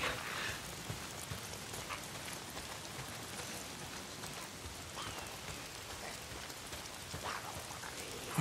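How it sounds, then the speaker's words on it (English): Steady rain pours in the video game Days Gone, a dense, even hiss of drops on surfaces running the whole time, fairly quiet, with no voices. "Why is it always raining?"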